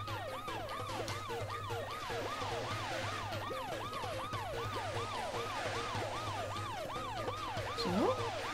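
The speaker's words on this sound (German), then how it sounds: "Geht die Sirene gleich wieder los?" A wailing siren in the video game Paper Mario: The Thousand-Year Door rises and falls in a fast, even cycle, loud and continuous over a low steady hum.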